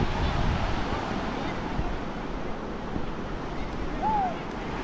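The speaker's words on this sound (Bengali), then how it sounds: "ঢেউগুলো দেখো কি সুন্দর, ছোট ছোট ঢেউ" Small, gentle sea waves wash onto the shore at Bakkhali beach, a steady soft surf hiss with light wind noise and a brief faint whistle-like tone near the end.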